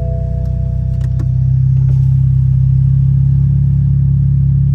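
A car engine rumbles steadily up close, a deep continuous idle that swells slightly and holds loud, with a few faint clicks early on.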